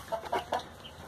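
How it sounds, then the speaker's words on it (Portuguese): Free-range country chickens cluck in a few short, close bursts on a farm smallholding, alone with no talking. "E aqui, pessoal, são as galinhas."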